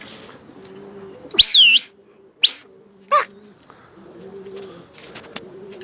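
Pigeons in a pigeon-keeper's flock, with soft low cooing running through the clip and a few brief louder bursts like wing flaps or whistling sounds standing out near the middle.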